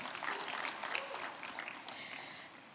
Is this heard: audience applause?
yes